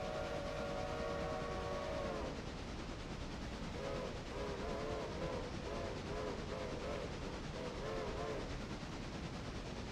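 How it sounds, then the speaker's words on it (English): Train whistle in a train simulator video game, a steady multi-tone blast for about two seconds, then a series of shorter repeated whistle toots over constant engine and rail rumble. "The invisible man is pulling the cord for the whistle."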